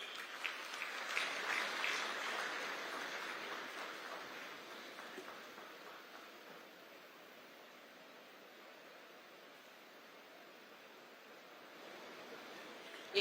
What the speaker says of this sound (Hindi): एक बार जोरदार तालियों के माध्यम से अभिनंदन वंदन स्वागत